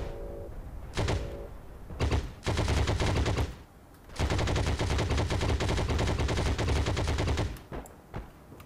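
Gunfire in the Heroes & Generals video game, including a scoped KAR 98 sniper rifle, comes as a few sharp single shots and then long, dense bursts of rapid fire that are loud and close.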